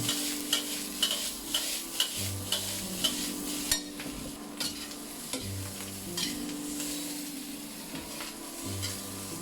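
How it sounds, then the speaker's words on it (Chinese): Fried tangyuan being stir-fried with pickled cabbage in a wok: a continuous sizzle of frying with repeated sharp scrapes and clacks of the spatula against the pan in an uneven rhythm, close and steady, with no voices. "倒入炸好的汤圆，稍微翻炒几下"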